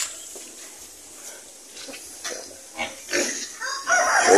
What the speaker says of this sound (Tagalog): Tsaka yung baboy.